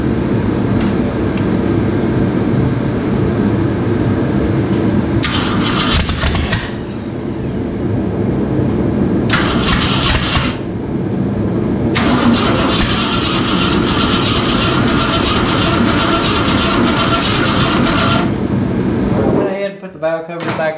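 A rebuilt Ford 302 V8 in a 1967 Mustang cranks in loud repeated bursts, the starter churning over several times with short pauses between tries, heard up close under a steady background hum.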